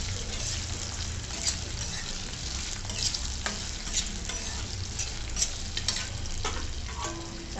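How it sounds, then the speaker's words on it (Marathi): Potato and green chilli frying in hot oil in a wok, a continuous dense sizzle with occasional scrapes and stirring clatter, close and steady throughout. "कढईत तेल तापवून घेतलं, त्यात बटाटा आणि हिरवी मिरची"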